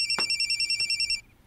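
Loud, close electronic phone ringtone, a rapid pulsing run of tonal beeps lasting about a second before cutting off into quiet room sound.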